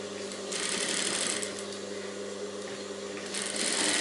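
A sewing machine stitches a princess-cut blouse with a stand collar, a faint, steady mechanical whir that swells in two longer runs.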